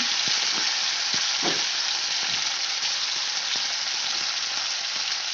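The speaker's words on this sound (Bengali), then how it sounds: "আলুগুলো আমি লাল লাল করে ভেজে তুলে নেব" Potatoes fry in a pan of hot oil for a chhena and potato tadka. A loud, steady sizzle crackles close by without a break, with a few faint scrapes of stirring.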